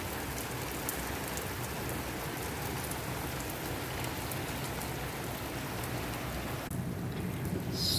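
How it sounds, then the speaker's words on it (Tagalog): Rain falls steadily in Alkhobar on a summer day, a dense, even hiss of drops that keeps up throughout, with a slight shift in tone near the end. "it rains today"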